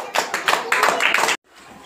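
A classroom of young children clapping together in a quick rhythmic burst of claps that stops abruptly, leaving near silence.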